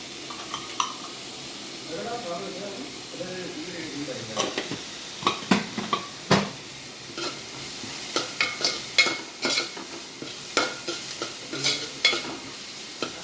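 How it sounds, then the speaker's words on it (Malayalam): Sliced onions fry and soften in a pan for a Kerala-style sardine curry, a steady low sizzle broken by repeated sharp scrapes and clacks of a spoon stirring against the pan, with some faint speech in the background. "ഉള്ളി ഒന്ന് ബ്രൗണും ആവാനായിട്ട് കാത്തിരിക്കാം"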